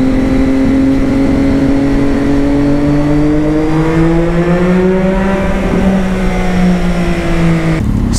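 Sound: Lamborghini car engine revving

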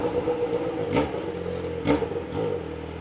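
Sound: motorcycle passing on street

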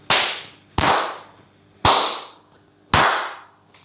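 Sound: clap reverberating in a tiled bathroom

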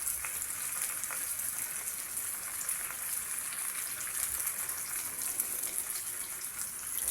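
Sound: several fish frying in a large frying pan

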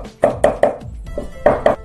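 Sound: knife mincing garlic on a cutting board

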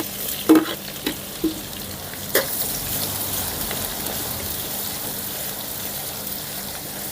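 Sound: finely chopped onions frying for upma

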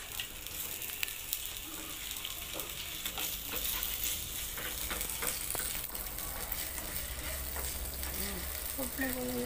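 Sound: ginger sautéing in a pan

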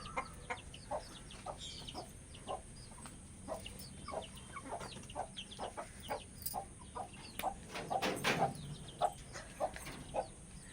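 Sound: chickens clucking

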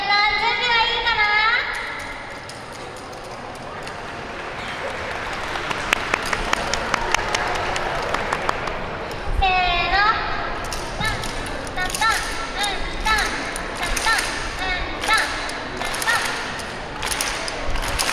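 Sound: rhythmic hand clapping by yosakoi dancers

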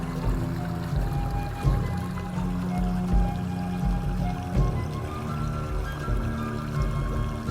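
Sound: water pouring and trickling

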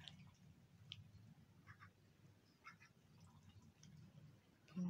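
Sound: ducks eating and quacking

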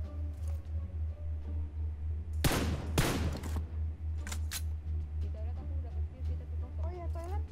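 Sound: gunfire from M24 rifle in PUBG Mobile video game

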